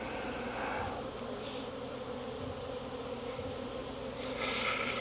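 Honey bees buzz steadily around an open DIY insulated condensing hive during a first spring inspection, a continuous close, even hum with no talking.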